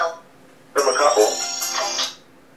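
A phone left switched on starts ringing in a studio during a racing talk show, a bright melodic ringtone chiming for about a second and a half after a short voice.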